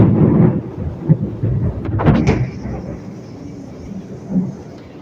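Thunder rumbles and cracks close by during a thunderstorm, with a sharper crash midway that fades into lingering low rumble, while rain falls steadily in the background.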